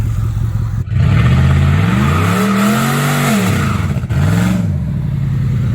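A Cadillac converted into a stock race car revs hard under throttle, its engine note climbing, then sagging and faltering briefly before rising again; loud and close, with sharp cuts where the power drops out.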